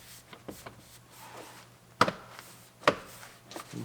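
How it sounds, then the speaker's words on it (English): Plastic trim clips snapping into place in an Acura RDX dashboard, two sharp distinct clicks with a few softer taps and handling knocks around them in a quiet room. "Snap it in there."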